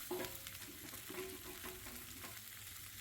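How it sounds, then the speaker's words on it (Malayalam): Sliced onions and ginger sauté in a pan, a quiet steady sizzle with a few soft stirring scrapes, no voices. "സവാളയും ചേർത്ത് വഴറ്റി കുറച്ച് ഉപ്പിടാം."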